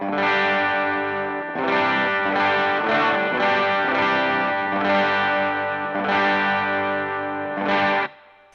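An electric guitar plays through a Shelly Guitars overdrive pedal powered at 18 volts and set to low gain for a clear, mild crunch. A series of ringing chords is struck and sustained, and the last one is cut off abruptly near the end.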